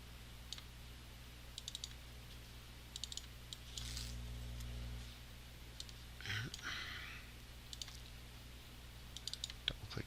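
Sparse computer mouse clicks while editing lettering in CorelDRAW 2020, scattered in small clusters over a quiet room hum with a brief low rumble and a rustle midway.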